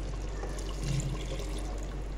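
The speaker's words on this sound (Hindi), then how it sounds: "अब इसके अंदर थोड़ा सा पानी ऐड करेंगे।" Water poured into a pan of chicken achari masala after the spices have cooked, a steady close splashing and trickling pour with no voices.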